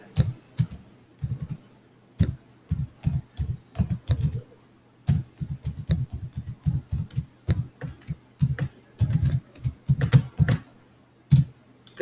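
Java code being typed on a computer keyboard, with bursts of close, crisp key clicks separated by short pauses and no voice.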